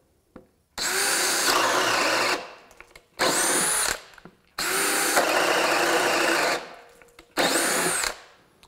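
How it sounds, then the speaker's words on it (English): A DeWalt DCD791 cordless drill on a 2-amp-hour battery bores with a bore bit in four strong whirring runs, each starting abruptly and stopping with short pauses between, loud and close with no talking. "And here's the DCD791 with the same 2-amp-hour battery and bore bit."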